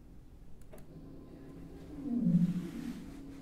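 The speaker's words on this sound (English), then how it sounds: "And for the blue whales, I'll play sound also." Blue whale calls recorded in Skjalfandi and played back sped up, a low tonal moan that swells to a louder sweep midway before fading, alone against faint background noise.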